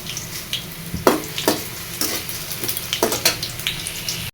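Paneer pieces frying lightly in a pan in a home kitchen, a close, crackling sizzle with a string of sharp spatula scrapes and taps at irregular intervals, no talking.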